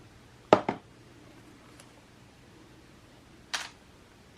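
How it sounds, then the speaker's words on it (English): Aerosol colour spray hitting homemade bath bombs in short hissing bursts, two close together early, a faint one in the middle, and another pair later, with quiet between. "Okay, let's spray some bath bombs."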